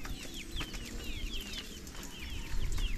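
Chickens cluck and peep continuously, with high chirping calls over a low rumbling background and no voices.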